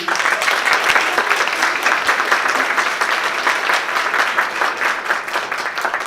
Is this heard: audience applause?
yes